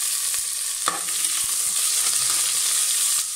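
Chopped carrots, beans and potatoes sautéing in a hot pan for vegetable biryani, a steady loud sizzle with occasional stirring scrapes and no talking.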